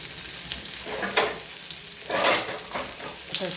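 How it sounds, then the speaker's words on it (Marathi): Pomfret coated in rava frying on low heat in a pan, a steady close sizzle and crackle with a few brief swells, no talk. "आता त्याला थोडी मंद आचेवर चांगल्या कडक होऊ देते"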